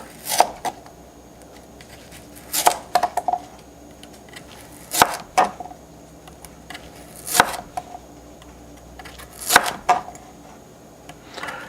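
A knife cuts firm, freshly cured sweet potatoes into quarter-inch slices for air-fryer fries. Sharp, distinct chops land about every two seconds, each a crisp blade-through-flesh knock on a board, with quiet gaps between them and no talking.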